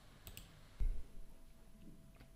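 A faint mouse click approving an application install on a Windows computer, a single soft click amid quiet room tone with a couple of small taps around it.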